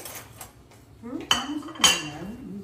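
A spoon and dishes clink in a home kitchen during festive cooking, with two distinct bright metallic strikes over a soft background of voices.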